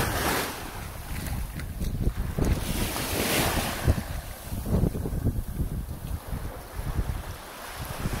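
Ocean surf at Zoni Beach on Culebra, Puerto Rico, washing steadily for the whole stretch, with heavy wind buffeting the microphone and no talk heard.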